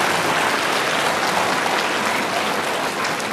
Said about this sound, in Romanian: vă rog să aplaudați pe toți copiii care vor fi premiați în această seară